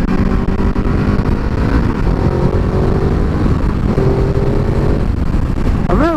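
A Ducati Multistrada 1200 Enduro with a Termignoni exhaust revs loudly and up close, its engine roaring continuously with rising pitch sweeps near the end.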